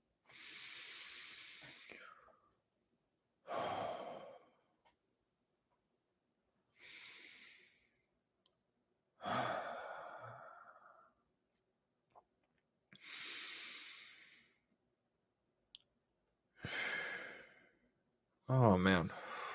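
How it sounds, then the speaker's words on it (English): Slow, deep breaths come close to the microphone: a series of long airy inhales and exhales separated by quiet pauses, some ending in a soft sigh, with a voice briefly heard at the very end. "Nothing's better than a good old deep breath."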